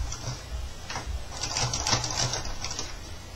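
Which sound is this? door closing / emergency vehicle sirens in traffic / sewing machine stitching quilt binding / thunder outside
sewing machine stitching quilt binding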